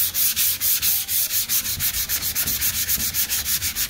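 Steady back-and-forth rasping of sandpaper hand-sanding body filler on a Toyota Tacoma pickup bed side, rhythmic strokes about five per second, close and continuous with no talking.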